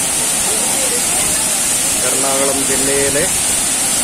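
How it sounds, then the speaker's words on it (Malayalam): Aanachaadi waterfall in Ernakulam district, Kerala, pours with a loud, steady, close roar of rushing water, while someone talks over it. "കംപ്ലീറ്റ് രുദ്രഭാവം അടക്കി നമ്മുടെ ആനച്ചാടി വെള്ളച്ചാട്ടം"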